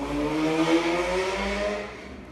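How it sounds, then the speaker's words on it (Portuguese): A motorcycle passes on a nearby street, its engine drone loud and tonal before fading away toward the end. "Espera a moto passar."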